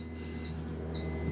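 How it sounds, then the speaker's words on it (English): A car's oil pressure warning alarm beeps during the first start of a Pontiac Fiero GT with a swapped Honda K24 engine, giving two short high tones about half a second apart over a steady engine hum. "I can tell the oil pressure warning sounds going off"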